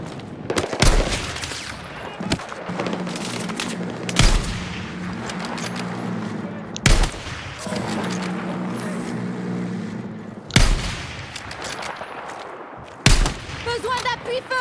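Battlefield 6 game gunfire: several sharp, loud shots or short bursts at intervals of a few seconds, over steady engine and battle noise, with a player talking in between.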